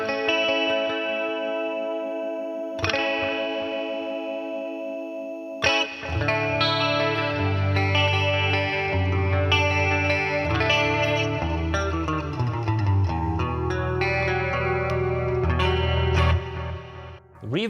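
Electric guitar through a Boss Katana MKII EX amp with chorus switched on, a sustained chord ringing alone before strummed and picked chords fill out with lush, shimmering modulation and steady, fairly loud level.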